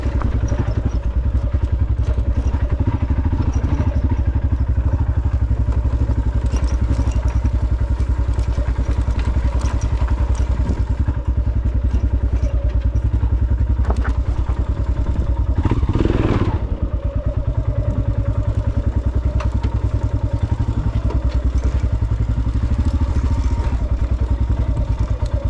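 Royal Enfield Himalayan motorcycle riding downhill off-road, its engine a steady close low drone throughout with clattering and thumping from the rough track, plus a brief louder surge midway.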